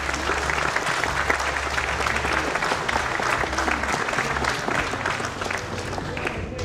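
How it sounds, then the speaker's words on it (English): Sustained crowd applause at the Hmong Wausau Festival as Pat Snyder stands to be recognized, a dense steady clapping that holds at full strength throughout with a low hum underneath. "please give Pat a round of applause"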